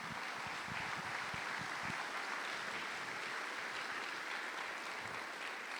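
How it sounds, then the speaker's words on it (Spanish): Steady applause from a church congregation during a Spanish-language sermon, a dense, continuous wash of clapping that holds at an even level throughout, with a few low thumps early on. "Dele un aplauso al Señor"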